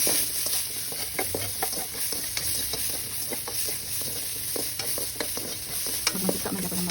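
Onions sizzle in hot pork fat for a pork belly sinigang, giving a continuous frying hiss broken by frequent clicks and scrapes as a spoon stirs them in the pan, fairly close and with no talking.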